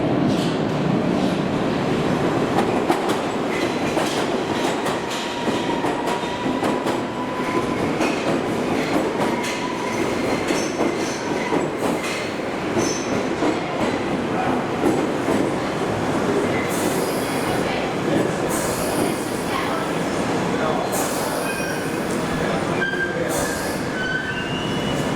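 A London Underground train rumbles steadily and loudly throughout, wheels clattering and squealing on the rails as it pulls into Manor House station, with no voices.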